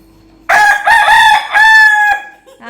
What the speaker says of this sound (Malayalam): എന്നിട്ട് അപ്പുറത്തെ കോഴി കൂവിടാ